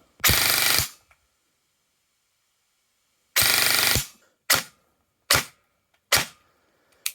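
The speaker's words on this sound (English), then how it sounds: "Full auto. 36, 37 rounds per second." An airsoft gun firing full auto at high rate, two sustained buzzing bursts of under a second each followed by three very short bursts, loud and close with silence between.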